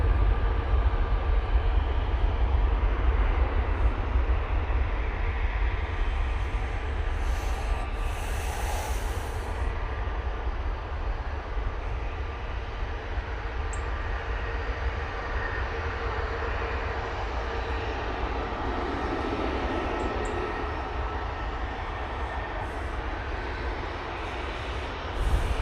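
A TUI Boeing Dreamliner touches down and rolls out at Manchester Airport, a sustained low jet rumble and roar that carries evenly at moderate loudness for nearly half a minute.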